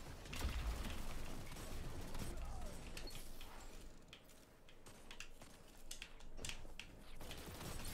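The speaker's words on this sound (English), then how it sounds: "It's a 3-round burst hand cannon." Gunfire from a 3-round burst hand cannon in the shooter game Destiny, repeated sharp cracks in a busy, noisy mix of game effects and steady background rumble.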